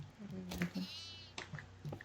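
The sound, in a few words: goat bleating in the Devour video game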